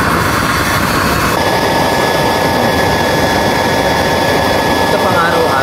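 Tiny stove burning used oil roars steadily and loudly throughout, a continuous broadband rush with a slight shift partway through, with a voice talking over it.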